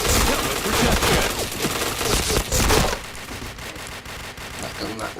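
Rapid gunfire from a Point Blank first-person shooter, dense, loud bursts and overlapping shots for about three seconds, then fainter scattered shots, with a player talking over it.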